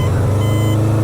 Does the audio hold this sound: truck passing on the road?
yes